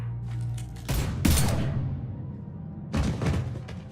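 Gunfire in Mass Effect 3, a couple of loud, close bursts of shots that ring out over a low rumbling backdrop, then a quieter stretch before another burst.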